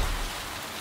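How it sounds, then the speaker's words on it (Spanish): A brief, steady hiss of rain falling in the video game Cyberpunk 2077, dense and even, with no voices. "Que está lloviendo"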